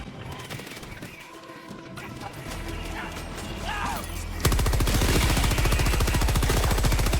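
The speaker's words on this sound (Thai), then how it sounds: "ปืนกลยิงพวกซอมบี้ธรรมดาใช้ได้" Machine gun fire against zombies in the video game Helldivers 2 breaks into a loud, rapid, continuous burst over the final seconds, following quieter mechanical clicks and rattles.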